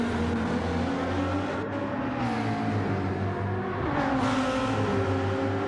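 Lamborghini and GT-R race-car engines in the video game GT Champions: a loud, continuous engine roar with rising and falling pitch as the cars accelerate, with no voices.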